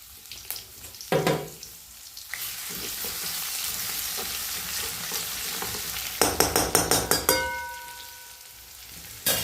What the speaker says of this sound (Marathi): त्यामध्ये आता प्रथम आपण जिरे टाकून घेऊया जिरे टाकत त्यानंतर आपण आलं लसूण पेस्ट टाकून घेऊया